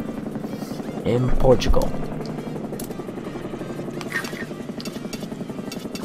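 A helicopter in the WRC3 rally video game thrums overhead with a steady, pulsing rotor beat and engine buzz. It swells loudly for a moment, then continues at a lower level beneath a man's speech.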